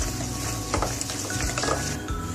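Cake batter made from Parle-G biscuits with Eno being stirred, a brief spell of close wet squelching and scraping of the spoon through thick batter in a bowl, no talking.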